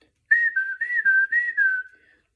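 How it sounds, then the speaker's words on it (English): A person whistles a short wavering tune of about six quick notes as a panic-button sound effect, close and clear with no talk. "That's the panic button noise."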